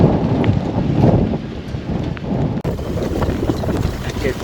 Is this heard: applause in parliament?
no